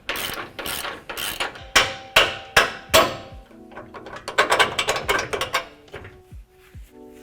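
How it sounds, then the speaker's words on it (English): A ratchet fitted with a 27mm socket works on an F-150 truck suspension mount, giving close, loud bursts of rapid clicking with sharp metallic strikes between them and a few quieter ratchet passes near the end. "you'll use a ratchet with a 27mm socket"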